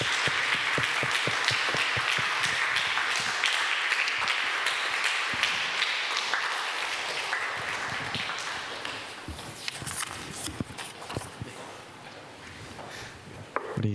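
Church congregation at a Sunday service applauding its teachers, steady crowd clapping that fills the room and gradually fades toward the end, with faint speech.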